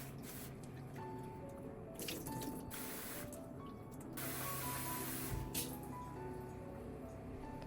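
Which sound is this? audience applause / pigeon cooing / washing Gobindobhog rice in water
washing Gobindobhog rice in water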